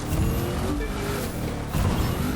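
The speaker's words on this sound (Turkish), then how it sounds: "Rally Cross arabaları çok savruluyor." Rallycross cars in the racing game The Crew 2 roar and slide, with steady loud engine drone and tire noise throughout, no talk.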